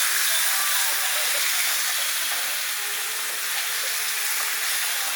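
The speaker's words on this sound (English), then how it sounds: "Just fry it all up, give it a bit of colour." Steady hissing sizzle of meat pieces and liver frying in a hot, crowded pan, continuous and fairly loud, with no talking.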